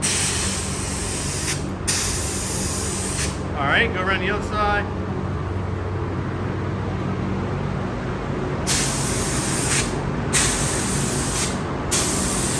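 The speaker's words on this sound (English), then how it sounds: "spraying the clear on" Bursts of spray-gun hiss start and stop in passes, spraying clear coat on an old Ford aluminum valve cover, over a steady background hum, with a brief spoken instruction in between.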